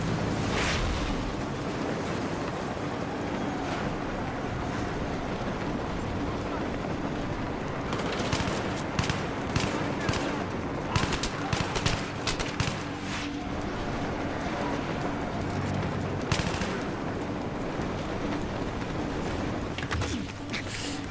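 Gunfire in Battlefield 3 from atop a moving train, a dense continuous wash of battle noise with scattered sharp shots and bursts popping through, steady and loud throughout.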